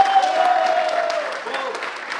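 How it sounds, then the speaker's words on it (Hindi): An audience breaks into brief, vigorous applause at a network marketing training session, with a crowd clapping loudly and evenly for about two seconds while a voice speaks over it. "तो संजय सर के लिए जोरदार ताली बजाएं।"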